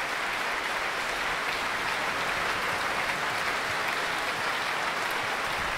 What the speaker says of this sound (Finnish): Christoffer Sundqvist ja Jani Niinimäki saivat erikseen raikuvat aplodit.